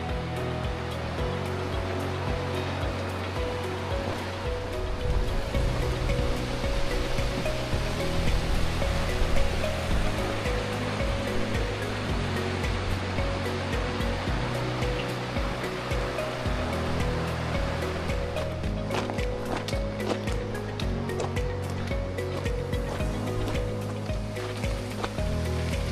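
The Mōkihinui River South Branch on the Old Ghost Road rushes in a continuous, loud, steady roar that fills the whole stretch without pause.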